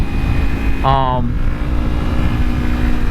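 Kawasaki Ninja 300 motorcycle engine roaring at full throttle on the road, a loud steady drone with a brief rising whine partway through.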